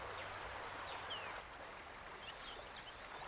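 A stream flows in Lake Manyara National Park with a steady rushing wash of water, while faint bird calls chirp in the background.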